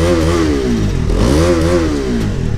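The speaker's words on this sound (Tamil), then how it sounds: "இப்போ நான் ஃபுல்லாக ரிவ் பண்ணுற பாருங்க" A 2020 BS6 Bajaj Dominar 250 with a double-barrel exhaust revved hard up close, its deep engine note sweeping up and down in two loud rising-and-falling throttle swells over constant rumble.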